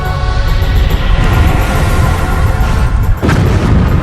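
An asteroid impact explosion rendered as a documentary sound effect: a loud, deep rumbling boom sustained for several seconds, capped near the end by a sharp crack that drops into a heavy low roar.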